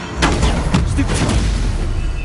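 Stupefy spell cast in the video game Hogwarts Legacy, a loud booming magical blast with sharp bursts over a dense, continuous rumble of game effects.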